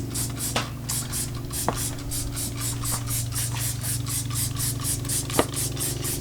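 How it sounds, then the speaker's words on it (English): Wheel cleaner sprayed from a trigger bottle onto half of a filthy, brake-dust-covered car wheel in a rapid, even series of close, crisp hissing bursts. "we're going to spray on the wheel cleaner here on half the wheel"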